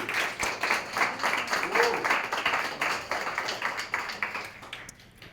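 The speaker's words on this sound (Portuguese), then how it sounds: "Recebe e aplaude." A church congregation applauds during a communion service sermon, rhythmic clapping that swells and gradually fades, with voices mixed in under the clapping.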